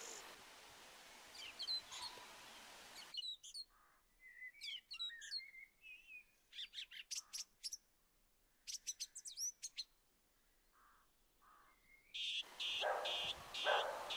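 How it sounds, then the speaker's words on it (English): A dog barking near a private road at the edge of the woods in the Cotswold countryside, several sharp barks heard at a distance in short bursts, with birds chirping around them and no talking. "Right, one noisy dog."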